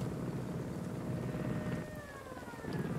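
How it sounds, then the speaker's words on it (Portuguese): A helicopter flies in the video game Ghost Recon Wildlands, a faint steady rotor drone and whine with rising pitch sweeps, heard alone at low level. "Helicóptero."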